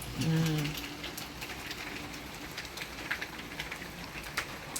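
Light rain on a stormy night falls steadily with occasional sharper drips, after a short low hum at the start.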